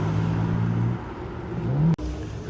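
A Porsche Turbo S Cabriolet's engine hums steadily nearby, drops off, then swells briefly with a rising note before a sharp click cuts through and a low rumble resumes.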